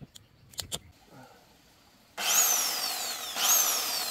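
A corded electric chainsaw sits quiet behind a few soft knocks, then its motor suddenly whirs up loud and close with a rising whine, eases, and revs again near the end.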